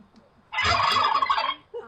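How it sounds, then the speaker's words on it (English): Turkeys gobbling, a single loud, rapid warbling gobble lasting about a second, close and clear with quiet before and a short trailing call after. "Who could forget the presidential turkeys who have been spared from execution on Thanksgiving?"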